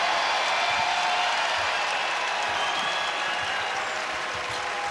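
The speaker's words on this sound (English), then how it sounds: "listen to this crowd" A basketball arena crowd roars and applauds at the Vanderbilt vs Florida SEC semifinal, a loud, dense, sustained wall of cheering and clapping that holds steady throughout.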